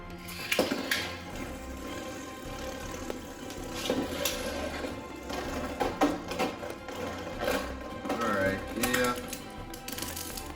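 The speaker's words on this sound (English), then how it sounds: "So let's go ahead and launch World first again." Beyblade Burst Dynamite Battle spinning tops launch and clash in a stadium, giving rapid metallic rattling and scraping with sharp hits and bursts, close and busy throughout.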